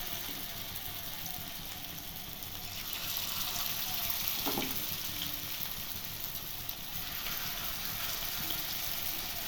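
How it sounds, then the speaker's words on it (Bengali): Cabbage pakora fritters frying in hot oil in a wok, a steady close sizzle and hiss running throughout with a small spatter partway through. "বড়াগুলো ভেজে নেব এরকম করে।"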